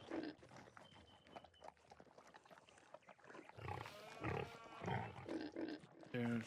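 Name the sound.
pig grunting in video game Farming Simulator 19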